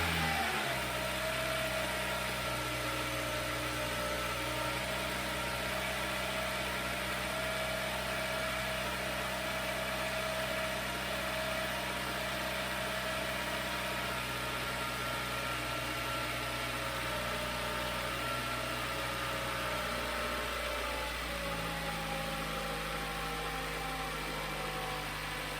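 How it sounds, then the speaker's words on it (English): A Toyota Camry engine idles after a throttle body cleaning, a steady low hum running throughout with a slight drop in tone near the end, close and unbroken. "with everything reassembled, we'll start the car, see how it runs"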